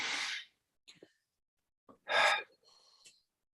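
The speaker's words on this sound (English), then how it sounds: "And deep breath in" A deep breath drawn in during a Sunday spiritual service, a strong close inhale followed by a slower exhale, with a few small mouth sounds and a soft second exhale after a pause.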